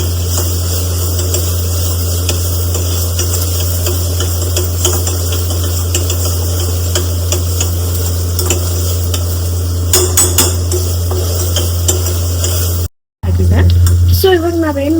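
Ginger garlic paste stirred and frying in a pan for vegetable palav, a steady close sizzle with spoon scrapes against the pan, a few louder clatters near the end.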